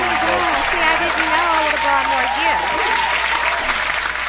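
Loud, sustained clapping from a studio audience fills the whole stretch at a steady level, with voices talking and calling out over it.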